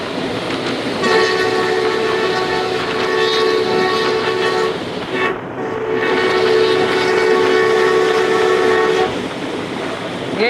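A Pak Express passenger train runs loud and steady, with a long sustained horn blast from about one second to nine seconds, briefly dipping midway, over continuous rail rumble.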